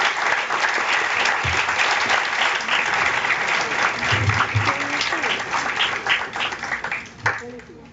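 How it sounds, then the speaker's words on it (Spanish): An audience at a university lecture on nutrition research applauds warmly, a dense, steady wash of clapping that holds for about eight seconds before thinning out near the end. "les pido un fuerte aplauso para dar inicio con su conferencia"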